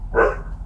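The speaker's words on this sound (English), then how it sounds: "Excuse my dog in the garden." A single short bark from a dog outside in a garden, heard at moderate distance over a low background hum.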